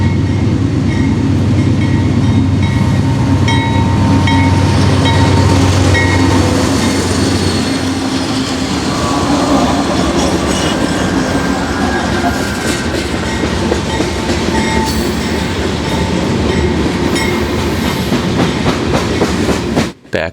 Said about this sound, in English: we caught a manifest, which blocked the head end of a yard drag.